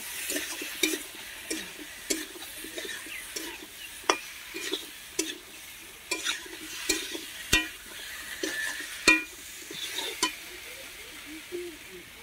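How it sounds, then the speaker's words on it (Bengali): Jackfruit curry seasoned with salt and turmeric is stir-fried in a pan, a soft steady sizzle broken by repeated scraping and clanking strokes of a spoon against the pan, close and fairly quiet. "এখন ভালো করে কষিয়ে নেব।"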